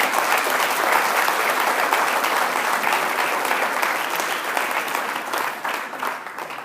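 A church congregation claps together for the Lord during a sermon, a loud, even wash of applause that holds steady and thins slightly toward the end, with no talk over it.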